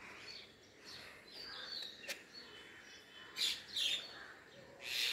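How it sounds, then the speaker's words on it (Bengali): Various morning birds chirp outside a window beside greenery, with scattered faint tweets and a few louder bursts of calls, heard alone at a moderate distance. "পাখির কলরব সকালবেলা"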